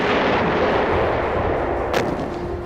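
Heavy naval gunfire from a warship's forward main gun during a Yellow Sea battle scene, a dense sustained boom and rumble filling the clip with a sharp burst near the end, no voices.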